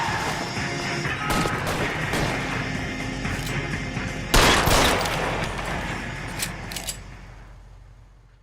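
Gunfire in the LA Noire video game comes as a rapid, overlapping fusillade of shots, with one especially loud blast near the middle, then thins out to a few scattered cracks before fading into quiet.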